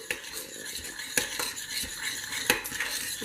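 Breadcrumbs stirred into a meatball mixture in a bowl, with steady clinking and scraping of a utensil against the dish and a few sharper knocks, close and moderately quiet, no talking.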